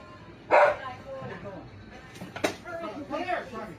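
A dog named Charlie gives a sharp bark amid a scuffle, followed by fainter yips and whimpers, with people talking over the commotion throughout.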